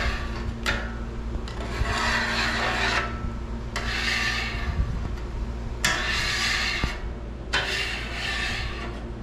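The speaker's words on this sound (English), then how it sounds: "first thing I do is just scrape the oil and old food stuff off of here." A scraper rasps across a Blackstone griddle, clearing off oil and old food in four long, harsh strokes with short breaks between them, loud and close over a steady low hum.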